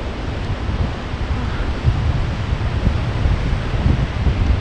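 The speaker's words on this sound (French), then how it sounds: "Toujours le vent qui souffle de dos," Steady wind roars across a seaside beach during a coastal trail run, a dense continuous rush with gusty swells and no voices.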